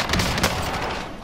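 Rapid bursts of gunfire from the video game Call of Duty on Rebirth Island crackle loudly and densely, with a voice talking over the shots.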